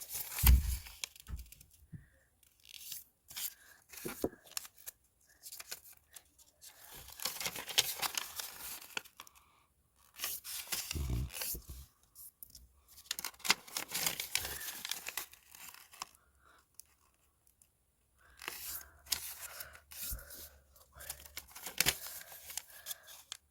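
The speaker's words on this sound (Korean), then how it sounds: "일단 가로 세로 대각선으로 접어주세요" A sheet of paper being folded horizontally, vertically and diagonally for a paper blade craft, with irregular crinkling, creasing and rustling bursts up close, alone.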